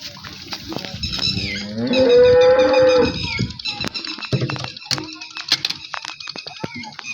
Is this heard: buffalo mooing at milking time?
yes